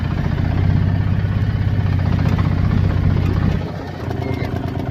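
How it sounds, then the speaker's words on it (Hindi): An auto rickshaw engine runs steadily through a ride, a loud low mechanical drone close by that drops in level near the end before picking back up. "तो अभी हम भैया के साथ ऑटो पे हैं, तो भैया ऑटो की राइड करेंगे।"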